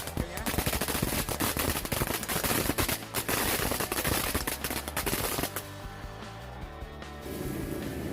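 A rapid, dense barrage of firecracker blasts crackles loudly like machine-gun fire for several seconds, then gives way to quieter rumbling and fading pops.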